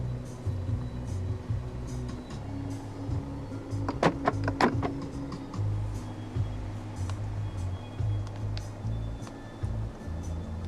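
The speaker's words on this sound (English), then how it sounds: "Central locking." Inside a 2016 Mercedes-Benz B 200 d, the central locking actuates with a quick cluster of sharp mechanical clicks and thunks, close and clear over a quiet cabin hum.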